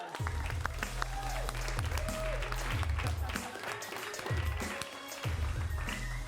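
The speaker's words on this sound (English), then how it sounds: "Give him a round of applause." A comedy show audience at an improv shootout breaks into applause, a dense wash of clapping that carries on steadily for several seconds. A rhythmic low thumping and some voices sit underneath it.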